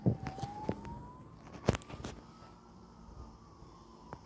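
Faint, distant ambulance siren wailing in a rising tone beneath scattered nearby clatter and knocks.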